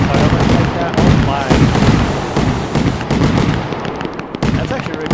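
Fireworks going off in the video game Fireworks Mania, a dense rapid barrage of bursts and crackles layered together, loud and continuous with dips between salvos.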